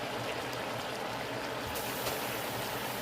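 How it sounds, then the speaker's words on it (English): Hot water poured into a pot of seasoned pork chops, a steady rushing splash that runs continuously, fairly faint and close. "and then I'm going to put in my hot water."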